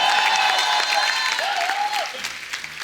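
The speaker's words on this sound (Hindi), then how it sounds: "कृष्णा के लिए जोरदार ताली हो जाए।" Studio audience applause on a television comedy show, a dense continuous wash of clapping from a large crowd, loud and close, tapering off near the end.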